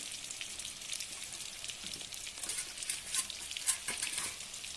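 Whole cumin seeds sizzle and crackle in hot oil after amra pieces are fried red, a close, continuous frying hiss with scattered sharp pops and a few scraping stirs.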